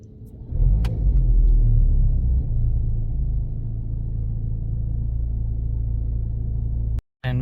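A 2023 Mercedes-AMG C 43 4MATIC starting up: a brief click, then the engine catches with a loud rumbling surge and settles into a steady, close idle, with a short dropout near the end.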